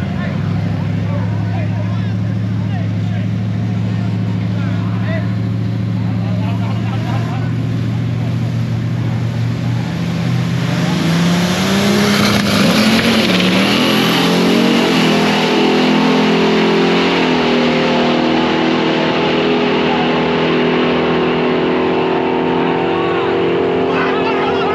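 A Toyota Tacoma truck with a 2JZ engine revs and accelerates hard at a Silver Dollar Raceway import drag event, a loud, close engine rising in pitch and then roaring away, with speech from a man nearby.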